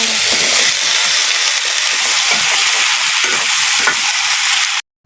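Okra stir-frying with garlic, onion, chili, shrimp, turmeric and salt: a loud, steady sizzle with scraping stirs that cuts off abruptly near the end.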